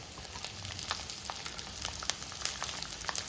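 Chopped large onion and a few curry leaves frying in a pan for Kerala-style soya roast, a dense close crackling sizzle with sharp pops scattered across it, alone without voices.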